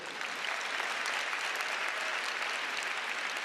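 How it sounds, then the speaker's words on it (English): Keynote audience applauding steadily, a dense, even wash of clapping from a large crowd in a big hall, holding at the same level throughout without voices over it. "you just clapped for AI"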